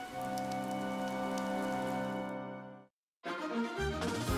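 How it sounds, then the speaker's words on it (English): Heavy rain in the video game Fire Emblem: Three Houses, a steady dense hiss layered over sustained music, cutting to a brief silence before rain and score return. "The rain is really coming down now."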